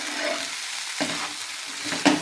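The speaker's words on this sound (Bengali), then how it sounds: "এবার ভালো করে সব কিছু একসাথে আর একটু ভেজে নেব" Rice and lentils fry with chili powder in a pan for a vegetarian vegetable khichuri. A steady close sizzle runs throughout, broken by two scraping stirs of the spoon.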